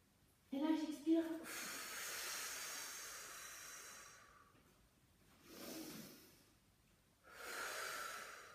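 Slow, deep breathing during a morning Tibetan rites energy routine: a voiced effortful exhale, then a long airy breath out, followed by two softer breaths, close and quiet.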